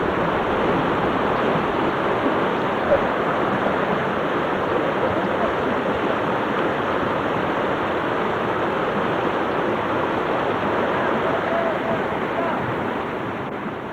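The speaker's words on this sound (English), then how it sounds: "This part of the brook brings us some rapids" Rapids on a salmon brook rush in a steady, broad roar of turbulent water, close and loud throughout with no voices, easing slightly at the very end.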